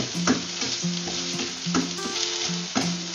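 Okra being stirred and fried in a pan for an okra omelette, a continuous sizzle with repeated spatula scrapes and clinks in a loose rhythm, close and moderately loud, with faint tonal background layers.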